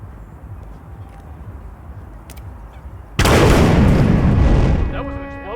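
A loud explosion bursts in a Hitman video game scene after quiet ambience, a sustained roaring blast that decays into ringing debris, with voices around it.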